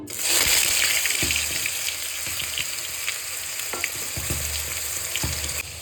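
A paste of onion, garlic and green chili hits hot mustard oil with a loud burst of sizzling, which settles into a steady fry broken by occasional spoon clinks as it is stirred.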